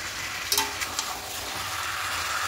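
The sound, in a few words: potatoes sautéing with spices in a pan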